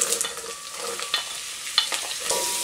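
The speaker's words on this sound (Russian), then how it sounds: "Обжариваем овощи в течение 5 минут на огне чуть больше среднего." Vegetables for pumpkin soup fry over medium-high heat, a bright continuous sizzle up close, broken by several clinking spatula stirs.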